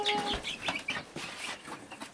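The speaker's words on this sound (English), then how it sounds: "we've got two bird cages inside the tiny house on wheels, and the little chicks are doing very well" Young chicks in a bird cage inside a tiny house on wheels, peeping and clucking repeatedly at close range, fairly loud, with no talk over them.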